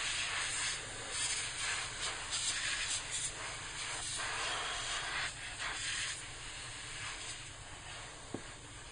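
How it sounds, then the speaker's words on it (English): Compressed air blasting dust out of a PC power supply, a loud continuous hiss that surges and dips in short pulses, close up, without any talk. "can blow all the dust out of the power supply, and this will help improve the airflow through it"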